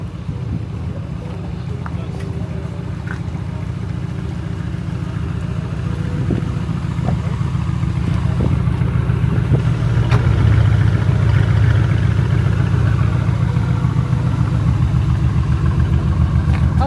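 Car engine burbling at low revs, a steady deep rumble that grows slightly louder midway and holds near and continuous.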